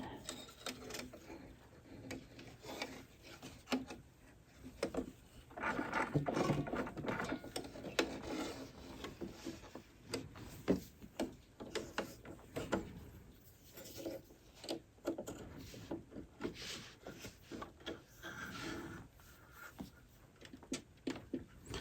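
Sewing machine being rethreaded by hand, a faint series of small clicks, ratcheting turns and rubbing sounds of thread and mechanism, close and quiet with irregular rhythm.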